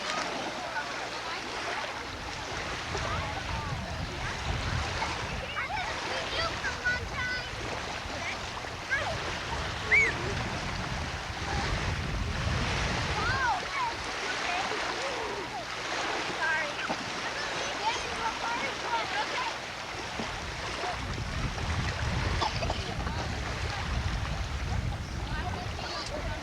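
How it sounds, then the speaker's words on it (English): Broad ocean surf on a shore where the wind has died down in the late afternoon, rolling and washing steadily throughout with low rumbling swells, while people talk faintly in the background. "Those are waves."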